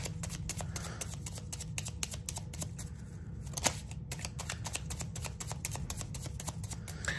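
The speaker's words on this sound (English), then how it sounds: "this is coming to me as I shuffle, I'll keep shuffling" Tarot cards being shuffled by hand give a fast train of crisp riffling clicks and soft slaps, close and fairly quiet, with no talking over them.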